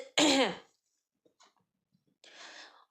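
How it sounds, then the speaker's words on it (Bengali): One harsh, close cough or throat-clear, followed by quiet breathing and a soft exhaled breath. "বারবার কাশি হচ্ছে"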